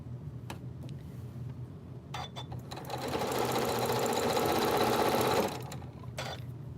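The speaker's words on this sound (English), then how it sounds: "And I chain sew these, just in case you were wondering." A sewing machine chain-sews half square triangle quilt pieces, with a few faint clicks first and then a loud, rapid whirring run of stitching lasting a couple of seconds before it stops.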